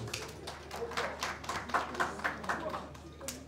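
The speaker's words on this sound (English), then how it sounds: "Modinot Bali, TV, can I have a round of applause for her?" Light, uneven clapping from a small group, fairly quiet, with a murmur of voices underneath.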